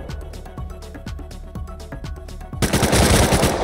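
Console Rust gunfire: rapid, evenly spaced automatic shots crack out close and loud for a couple of seconds, then a denser, louder burst of noisy fire takes over.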